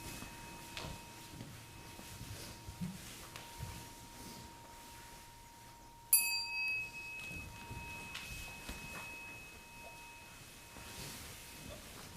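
A Zen monastery bell rings during a Sunday service, with a soft early tap and then a clear, louder strike whose pure tone hangs and slowly fades over several seconds in a quiet hall.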